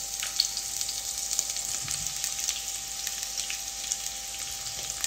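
Onion for pork binagoongan goes into hot oil with chili and sizzles and crackles steadily. Scattered pops and spits sit over the continuous fry, close up and moderately quiet.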